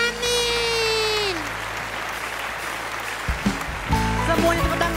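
A crowd of children clapping together at a Sunday school service, a steady dense patter of applause with a sustained tone fading early and some music-like notes near the end.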